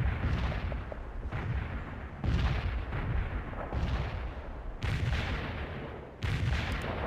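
Mortar strike in World in Conflict, a series of heavy, booming explosions landing about once a second, loud and close, forming a continuous barrage with no speech over it.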